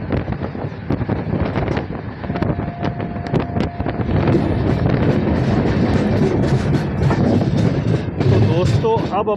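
Ranthambore superfast express train running after leaving Sawai Madhopur Junction, heard from a coach right behind the locomotive: steady loud rumble and wind roar with rail clatter throughout.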